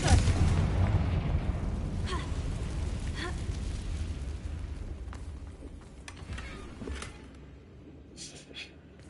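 Muffled boom of a Confringo spell explosion in a video game, loudest at the start and then decaying into a low rumbling tail with scattered crackles and faint game sounds.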